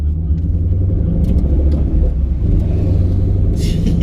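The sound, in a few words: Chevy SS drag car engine rumbling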